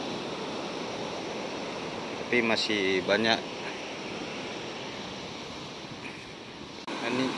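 Large ocean waves roll onto a garbage-strewn beach at Masjid Al-Hakim in Padang. A continuous, fairly distant roar of surf fills the whole stretch, with a person briefly speaking over it.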